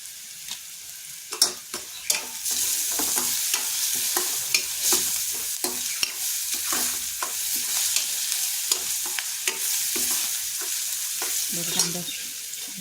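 Onion and chopped tomato frying for Maharashtrian egg bhurji, a steady close sizzle broken by frequent spatula taps and scrapes against the pan, repeating irregularly throughout, with no voices.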